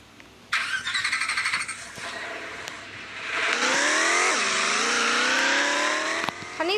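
A car engine roars loudly and revs, with a high whine rising in pitch, then a brief squeal before the engine note climbs steadily again.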